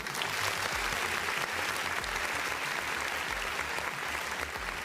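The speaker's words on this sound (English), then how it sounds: "A round of applause, everybody, please." Steady applause from an audience at a UAAP Season 88 basketball press conference, a dense, even wash of clapping that holds at a constant level for the whole stretch.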